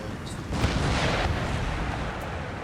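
Cannon artillery fires in the video game Total War: Empire, a deep, muffled boom rolling out at moderate distance and sustained as a rumbling roar over a constant battle din.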